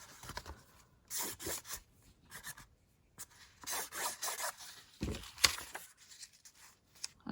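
Black marker or pen scratches out a rough frame in an art journal, producing quiet bursts of dry scratchy rubbing strokes separated by short pauses.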